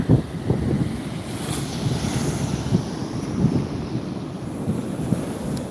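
Wind buffets the microphone at a cool, quiet Navarre Beach in Florida while surf rolls and washes steadily nearby, a continuous loud roar with small surges.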